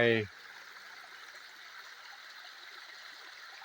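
Stream water at Pha Hin Ngam waterfall in Chae Hom, Lampang, rushing in a faint, steady wash after a brief voice at the very start.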